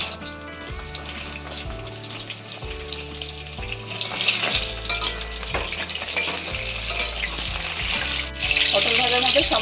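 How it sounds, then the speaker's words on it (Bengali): Cut pointed gourd pieces fry in hot white oil in a wok, a steady close sizzle with stirring scrapes that grows louder and brighter toward the end, under faint background music. "তেলটা ভালো মতো গরম হয়ে গেছে, এখন আমি পটলগুলো ভালো করে ভেজে নেব।"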